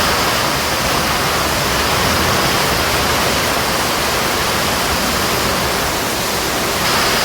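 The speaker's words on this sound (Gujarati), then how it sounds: "અડધી કલાકથી એક ધારો ચાલુ છે પવન ને વરસાદ" Heavy rain lashes down with strong gusting wind during a storm in a village, a loud, unbroken roar of close, dense noise with no pauses.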